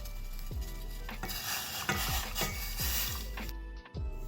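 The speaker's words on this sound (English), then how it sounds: "Time to add the milk." Milk is being added to a cooking pot and stirred, giving rhythmic scraping strokes of a utensil against the pot about every half second over a faint simmering hiss, fairly quiet.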